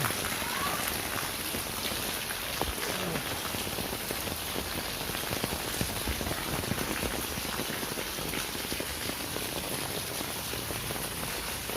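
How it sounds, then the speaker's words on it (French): Steady rain falls outdoors near a tree, a dense continuous patter of drops on surfaces that holds at an even level throughout with no talk. "Voilà, il pleut."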